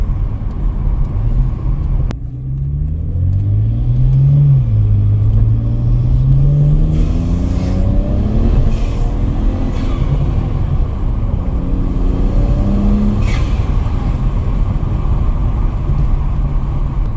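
A BMW 335i's N54 engine with aftermarket inlets drones steadily at moderate revs, its low intake hum rising and falling slightly at half throttle, loud and close throughout.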